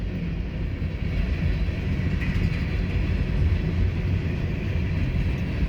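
A CSX freight train rumbles past in Connersville, a loud, steady low roar of wheels and cars rolling by without break for the whole stretch.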